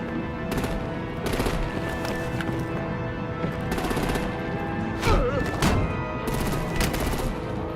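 Rapid gunfire bursts from artillery fired at vehicles in the Batman The Enemy Within video game, loud and steady over a continuous rumble, with several sharp volleys about a second apart.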